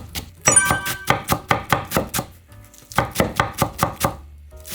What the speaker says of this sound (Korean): 그래갖고 아주 총총총총 썰어주세요.